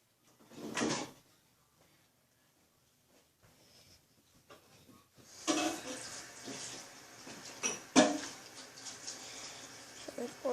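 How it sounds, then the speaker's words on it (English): Tap water runs into a kitchen sink, starting partway through and rising to a steady, fairly close rush with a few clunks, after a brief knock and quiet moments. "Now I'm gonna go to my sink, put some water in it."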